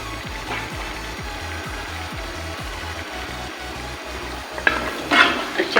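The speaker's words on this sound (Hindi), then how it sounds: "अच्छे से मिक्स कर लेंगे।" Tomato chicken karahi being mixed with fresh coriander in a pan, a steady sizzle with rhythmic scraping strokes of a spoon against metal, close and loud, with a few sharper clatters near the end.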